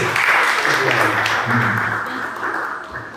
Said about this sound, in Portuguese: Bate palmas ao Senhor.